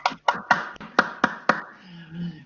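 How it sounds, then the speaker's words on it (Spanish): A lone person claps hands slowly during an online seminar, about seven sharp, close claps in an uneven rhythm, followed by a brief trailing murmur. "así que te aplaudo yo, Agustina, solo."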